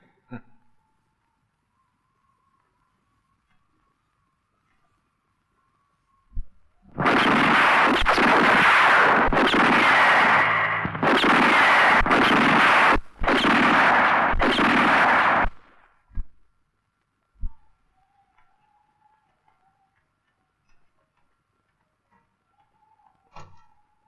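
Gunfire at a target-shooting session in a film scene: after a quiet start, a loud, sustained barrage of rapid shots crashes out in several long bursts separated by brief gaps, then gives way to a few scattered faint knocks.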